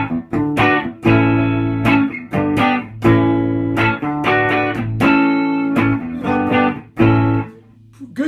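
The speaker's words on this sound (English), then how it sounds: "the neck pickup is sounds like this" A 1976 Dixon lawsuit-era SG electric guitar played through its neck pickup with a set of 57 pickups, loud rhythmic chords with short gaps, warm and slightly driven, played alone without talk.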